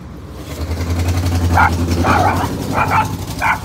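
A dog barks several times in quick bursts outdoors beside a street, over a steady low engine rumble from passing traffic.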